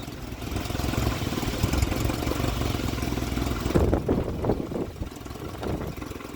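A turbocharged engine, its fuel pump just reinstalled, runs steadily with a loud, dense mid-range drone, then rises into a rougher, pulsing surge before settling back to a steady run.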